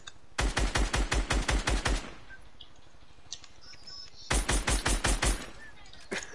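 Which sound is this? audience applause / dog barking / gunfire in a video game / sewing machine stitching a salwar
gunfire in a video game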